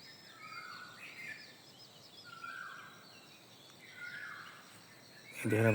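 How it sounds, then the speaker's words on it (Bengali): Various birds calling in the early morning outdoors, with faint, distant chirps and short whistled phrases repeating every second or so over a quiet hiss, ending in a louder low burst. "এই দেখেন আপনারা বিভিন্ন পাখির ডাক শুনতেছেন"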